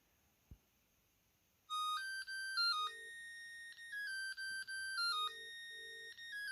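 A 1999 Mitsubishi MT-230 mobile phone plays a bright, electronic monophonic ringtone melody of stepped beeping tones, loud and close with no voices over it, after a short click at the start.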